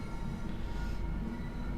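A train rumbles steadily in Train Sim World 4, a continuous low, heavy drone of a moving rail vehicle with no pauses, loud and close, without any talking.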